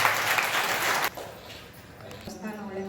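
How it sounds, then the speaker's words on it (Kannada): Applause from an audience at a self-employment training inauguration at a temple ashram, a dense loud patter of many hands that stops abruptly partway through, followed by quieter room noise and a voice. "ಪ್ರೀತಿಯ ಚಪ್ಪಾಳೆ."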